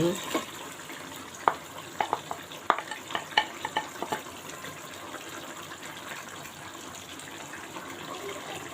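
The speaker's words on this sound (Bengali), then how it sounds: "এখন মুরগির মাংসটা দিয়ে আমি খুব ভালোভাবে এটা কষাই নেব" Quiet sizzle of chicken frying with a run of sharp spoon-against-pan clacks while it is stirred, faint talk in the background.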